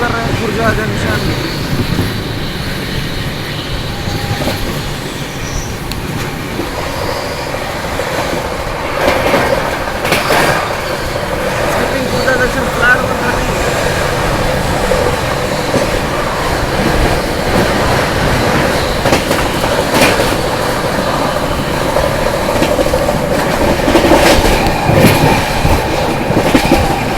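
Kalka Howrah Netaji Express train rolling past near Khurja Junction, a loud continuous rumble of wheels and carriages with rhythmic clatter and brief brighter surges, steady throughout.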